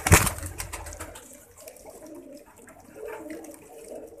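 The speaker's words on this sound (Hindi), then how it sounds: "ये भी टैडी कबूतर है" A teddy pigeon coos softly in a loft, with low, intermittent calls after a sharp knock at the very start and faint background noise throughout.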